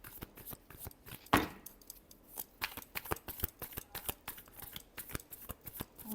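A deck of cards shuffled for a Pisces horoscope reading: close, quick papery snaps and riffles in uneven clusters, with one louder slap near the start, and no voice over them.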